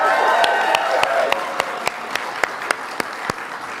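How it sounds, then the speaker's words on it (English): Audience applause at the White House Tribal Nations Summit afternoon session, a dense, steady wash of clapping from a large crowd, with a few sharper individual claps standing out near the end. "Can we please applaud Sophia?"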